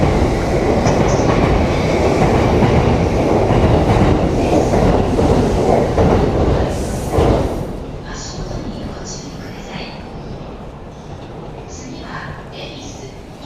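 A crowded train runs between Shibuya and Harajuku, a loud steady rumble and clatter of the car that drops to a quieter hum after about eight seconds, with voices murmuring throughout.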